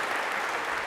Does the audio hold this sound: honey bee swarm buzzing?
no